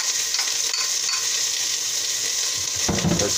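Onions sizzle and crackle steadily in a hot pan while kale is being cooked, a close, dense frying hiss with a brief stir-and-scrape burst near the end.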